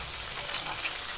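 Ground masala paste sizzles in hot oil in a pan for a prawn ghee roast, giving a steady, fairly quiet crackle throughout with no talking.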